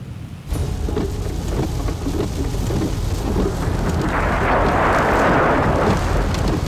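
Heavy rain pours steadily as thunder rolls and rumbles over Australia's sandy desert near Uluru, the downpour swelling louder toward the end.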